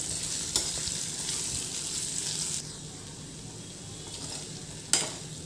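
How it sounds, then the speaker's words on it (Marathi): Boiled potato pieces sautéing in oil in a pan, a low continuous sizzle with occasional spatula clicks and scrapes, fairly quiet and close, no voices. "व हे बटाटे देखील आपण तेलामध्ये व्यवस्थित परतून घेणार आहोत."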